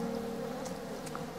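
Steady bee buzzing from the farming video game Farm Together, a continuous droning hum with a few faint higher flicks over it, moderately loud and with no talking.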